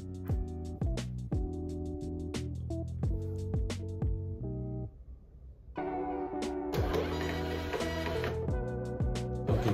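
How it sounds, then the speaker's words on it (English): A Trophy thermal printer runs as it prints a label, giving a steady mechanical whir with rapid ticking pulses, a brief pause near the middle, then a louder, busier stretch of printing. "our printer has printed out our label pretty perfectly from our Android phone"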